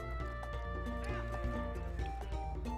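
A horse whinnies in Zelda: Twilight Princess, a short neigh set among clip-clopping hooves and other farm animals over game music, with no clear talk.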